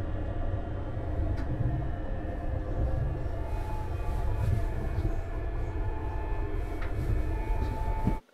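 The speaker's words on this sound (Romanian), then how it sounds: "Era prima dată când mergeam cu trenul în Turcia" Steady rumble and rattle of a high-speed passenger train running in Turkey, heard from inside with a continuous low drone and faint clicks until it cuts off at the end.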